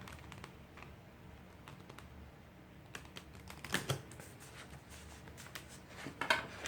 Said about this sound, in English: I'm going to see if I can just go ahead and shuffle these like normal